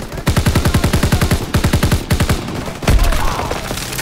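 Sustained automatic gunfire from a rifle emptying about half a magazine in Call of Duty WWII, loud rapid rhythmic bursts with brief pauses, followed by a heavier impact near the end.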